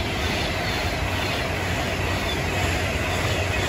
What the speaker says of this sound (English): a Pendolino to Glasgow